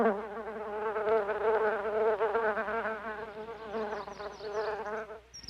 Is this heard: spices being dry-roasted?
no